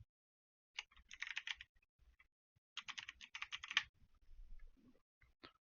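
Close-up typing on a computer keyboard during an online chess stream, two dense bursts of rapid keystrokes separated by a pause, with a few isolated clicks at the end.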